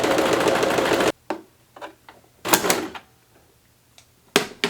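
A sewing machine runs a short continuous burst of stitching on a scrap piece of fabric, then stops, followed by scattered clicks and handling knocks.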